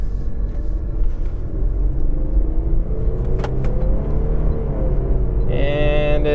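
A car drives along a road with a steady low engine rumble and road noise throughout, the engine pitch rising and falling slightly, with a brief higher whine near the end.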